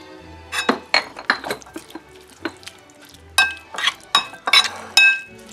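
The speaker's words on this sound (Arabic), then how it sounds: "هنقلبهم كلهم" Pasta with tuna is stirred in a metal pot, giving irregular clinks and scrapes of a utensil against the pot in short bursts, with a faint sizzle underneath.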